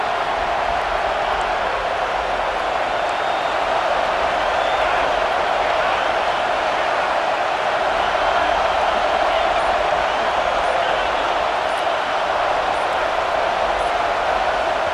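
A loud college football stadium crowd at an FSU versus Mizzou game roars as a dense, unbroken wall of cheering and yelling that holds steady throughout, with a faint voice underneath.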